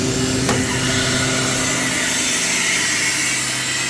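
Freeze dryer vent opened to release its vacuum, a steady loud rushing hiss of air that holds at one level from start to end after a brief click near the beginning.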